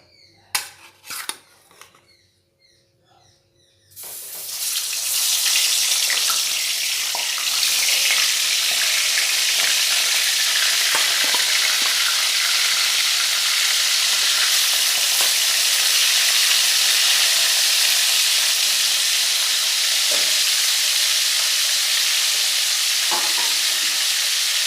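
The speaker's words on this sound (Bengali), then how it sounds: "দিয়ে এবার খুব ভালোভাবে ওই মাথাগুলো ভেজে নেব।" Fish heads rubbed with salt and turmeric hit hot mustard oil with a few clinks, then burst into a loud, close, sustained sizzle that keeps crackling steadily for the next twenty seconds.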